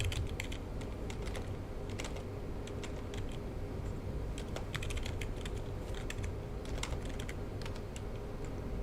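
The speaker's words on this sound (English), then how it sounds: "I'm typing messages." Rapid, irregular clatter of keys on a computer keyboard as messages are typed, close and clear in uneven bursts over a low steady hum, no voices.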